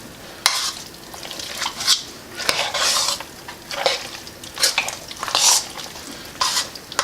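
A spoon stirs a scalloped potato and ham mixture in a pot, scraping and clinking in irregular bursts with wet squelching, close and fairly loud, with no talk.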